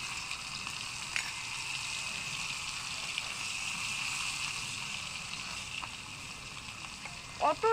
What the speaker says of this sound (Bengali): তেলটা গরম হয়ে গেছে, এখন আমি শুটকি মাছটা দিয়ে দিচ্ছি।